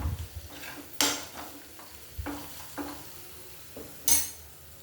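Soft frying in a pan, with a steady faint sizzle under occasional spoon scrapes and clinks against the metal, before tomato pieces go in for an amaranth stem and chana dal masala curry.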